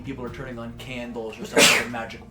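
A single short, loud sneeze bursts out partway through a man's continuous speech, standing clearly above his voice.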